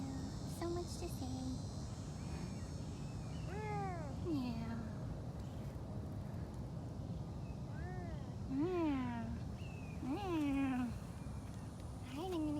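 Beecher, a Savannah cat at a big cat rescue, gives several close meows in a chatty series, spaced a few seconds apart over a steady hum, with faint talk in the background.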